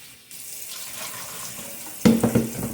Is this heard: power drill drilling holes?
no